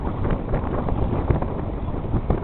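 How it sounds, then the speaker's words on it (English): Strong wind roars and buffets the microphone aboard a sailboat heeling to starboard on a port tack while crossing a bay, a dense steady rush with no talking. "the wind's coming from the port side, so we're heeling to the starboard side"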